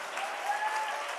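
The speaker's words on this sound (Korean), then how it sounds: "이럴 때 박수 한번 쳐주셔야 됩니다" Audience applause during a church testimony talk, a brief steady wash of many hands clapping, moderately loud, with no voices over it.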